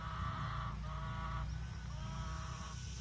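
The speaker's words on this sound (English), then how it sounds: "Chicken tractor right beside us too today." Chickens in a chicken tractor close by give short, repeated clucks and honking calls in uneven bursts over a quiet farm background, with no talking.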